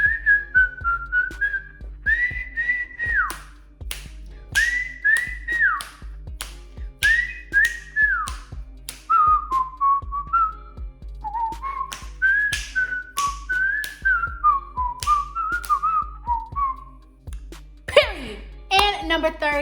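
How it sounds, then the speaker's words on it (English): A person whistles a melodic tune in a series of rising and falling phrases with short pauses between them, fairly close and clear, with some low background noise underneath. "Let me go ahead and try to whistle."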